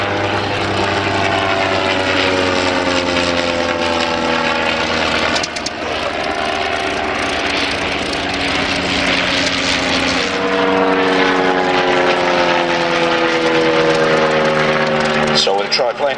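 A Sopwith Camel biplane with a rotary engine flies past at a Shuttleworth airshow, its propeller drone rising and falling in pitch as it passes, loud and continuous throughout, while a commentator talks over it.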